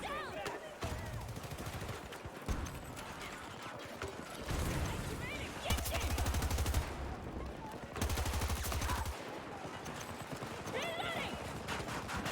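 Bursts of Avancys automatic rifle fire in a Battlefield 2042 multiplayer match on the Stranded map, loud and repeated in several stretches, mixed with game effects and distant battle noise.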